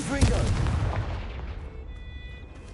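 A Confringo fire spell exploding in Hogwarts Legacy, a single loud close boom with a deep rumble that slowly fades into a lingering ringing tail.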